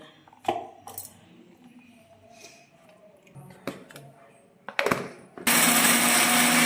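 Kitchen mixer grinder blending coriander seeds, cumin, garlic and ginger into fish curry masala. A few clinks and handling knocks come first, then the motor kicks in with a loud, steady whirring roar.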